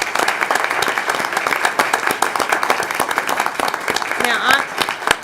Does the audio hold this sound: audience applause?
yes